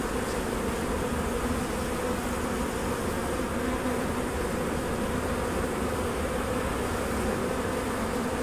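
Italian and Carniolan honey bees swarm at a hive being installed from packages, producing a dense, constant, loud buzzing drone that fills the whole stretch with no talk.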